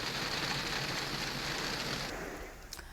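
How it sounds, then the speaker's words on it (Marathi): Heavy rain showers pouring down in the Vasai-Virar area near Mumbai, a dense steady hiss of rain that eases slightly near the end, with no voices. "ठाणे, पालघर या जिल्ह्यांमध्ये पावसाच्या सरी कोसळल्या"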